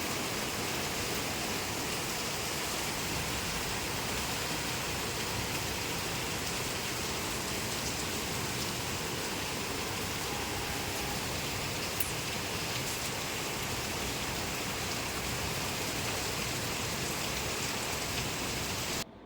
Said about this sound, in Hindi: बाहर बारिश भी कितनी ज़बरदस्त शुरू हो गई है ना,